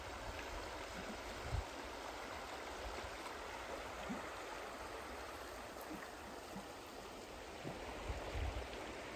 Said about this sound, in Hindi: आपको बस ये नहर की आवाज़ आएगी और बर्ड्स वगैरह की आवाज़ आएगी